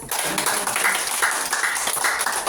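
An audience claps for a lecturer at the end of a talk, a steady, dense patter of many hands lasting a few seconds with no voices over it.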